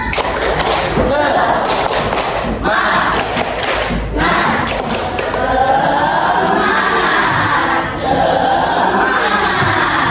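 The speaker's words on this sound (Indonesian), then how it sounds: "Tepuk semangat." Schoolchildren in a classroom perform a rhythmic spirit clap, loud bursts of group clapping and thumping coming in clusters between lively chanting voices, close and energetic.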